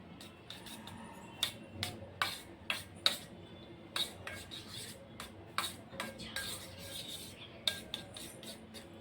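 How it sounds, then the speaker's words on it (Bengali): A utensil stirs a cabbage and egg mixture seasoned with black pepper, giving a steady run of sharp metallic scrapes and taps against the bowl, close and fairly quiet with no talking. "দেওয়ার পর ভালোভাবে এটা একটু নাড়িয়ে নেব"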